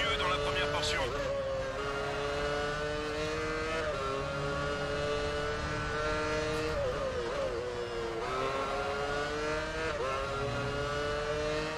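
An F1 race car engine in the video game F1 Championship Edition on PS3 at the Malaysia circuit, a loud continuous whine rising and dipping through gear changes as the car reaccelerates, with someone commenting over it.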